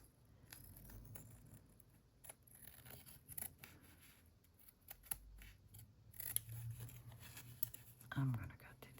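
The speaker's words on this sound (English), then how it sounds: "I'm going to take my fabric scissors." Fabric scissors cutting paper make repeated close, crisp snips and rustling slices at an irregular pace, quiet and intimate, while someone speaks softly throughout.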